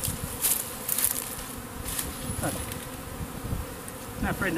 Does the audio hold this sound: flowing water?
no